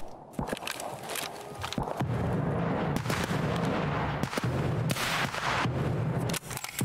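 Grenade launcher in the shooter Escape From Tarkov fires and detonates out in a field on the Reserve map, a series of loud booming blasts and gunfire bursts that fill the soundscape with dense rumbling reverberation, no talking.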